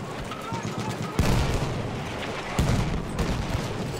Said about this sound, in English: The amount of mortars going on is insane.